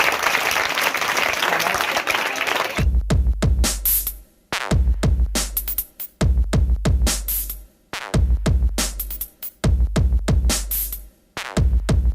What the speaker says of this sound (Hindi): तालियां बजाएंगे सब इसके लिए